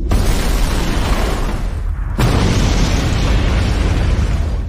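A film scene in which a bomb hidden in a delivery package blows up: a very loud, roaring explosion rumble that cuts out for a moment and then surges back, continuing heavy and dense to the end.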